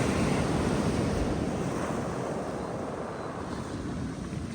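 Sea waves breaking on the Holderness coast at Easington near high tide, a steady loud wash of surf with wind buffeting the microphone throughout.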